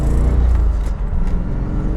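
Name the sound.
Chevrolet Corvette C4 with LT1 engine driving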